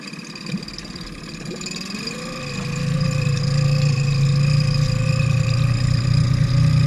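A Mercury 15 Pro kicker outboard motor drops into gear and runs steadily, its drone rising and thickening after a couple of seconds into a continuous, fairly loud hum with no voices.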